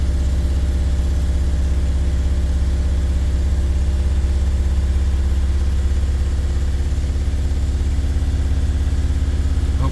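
A Mercedes T1N Sprinter van engine runs steadily at 2,000 RPM, a loud, constant low rumble with no change in pitch, close by and alone.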